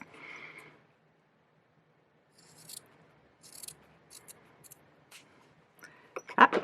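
Scissors trim fabric down to the width of a zipper while sewing a duffle bag, producing a few quiet, separate snips and rustles after a short pause, with a brief faint voice at the start.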